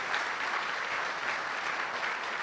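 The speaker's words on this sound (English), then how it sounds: "Can the members of the Korean delegation please stand up so that we can give you applause?" Sustained applause from a summit audience honoring a standing Korean delegation at an investment summit inauguration ceremony, dense steady clapping throughout with no pause, moderately loud and even.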